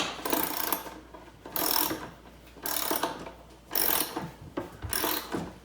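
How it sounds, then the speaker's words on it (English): A small socket wrench ratchets in bursts while tightening bolts on a Brewin SnowPro heavy-duty snow pusher with wheels, giving four or five loud close clicking runs separated by short pauses. "I've got a little socket wrench here, and I'm just gonna tighten everything up just like that"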